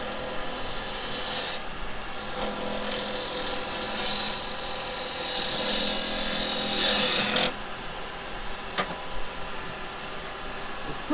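Roughing gouge cutting a wooden mallet blank spinning on a lathe, a steady rasping scrape running for about seven seconds before dropping away to quieter shop noise with a few faint clicks.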